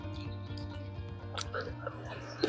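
Close, quiet chewing of crispy homemade fries made from garden-grown potatoes, soft crunches over a faint background hum.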